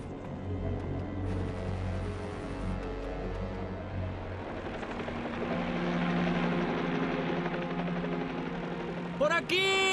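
A helicopter flies over the Kilauea volcano in Hawaii during a search after a plane crash, its engine and rotor drone steady and loud throughout. A sharp, brief burst of sound cuts in at the very end.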